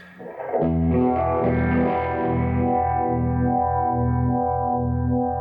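A sustained, distorted electric guitar chord through a vibe effect pedal swirls with a slow, pulsing warble, the tone throbbing rhythmically as it rings out and slowly fades.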